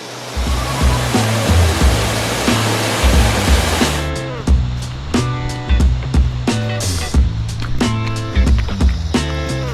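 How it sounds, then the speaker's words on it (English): Strong, hissing rush of a waterfall in full flow in Australia dominates the first few seconds, then fades as rhythmic music with a steady beat takes over. "I don't know how much water normally flows through here, but whew, she's flowing. That's a lot of water."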